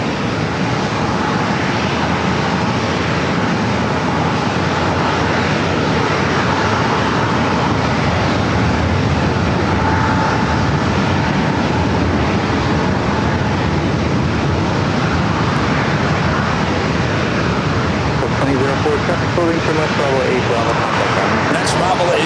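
A jet airliner at San Diego airport crossing runway 27 produces a loud, continuous roaring engine rumble with a steady whine, sustained throughout and swelling slightly toward the end, while someone talks over it.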